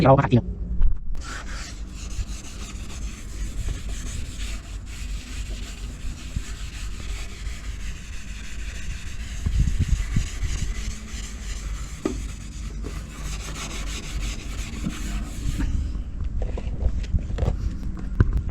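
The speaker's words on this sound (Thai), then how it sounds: "เดี๋ยวเรามาขัดอีกด้านหนึ่งบ้างนะครับ" Stains and rust marks are scrubbed off a car's paint by hand, a continuous rough rubbing that runs steadily for many seconds with brief pauses and changes of stroke.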